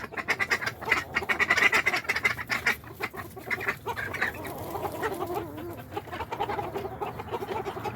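A drake fights with roosters close by: the roosters cluck and the drake quacks in a noisy, agitated flurry, the squabbling calls overlapping rapidly.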